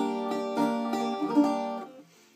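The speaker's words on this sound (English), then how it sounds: "Like chords, you would want to come up here around the sound hole here." A soft, ringing chord is strummed on a bouzouki near the sound hole, its notes shimmering briefly before fading out.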